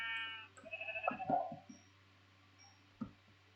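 Sheep in the Minecraft video game bleat in a few short cartoonish calls in the first two seconds, followed by a single brief bleat near the end, with no talking.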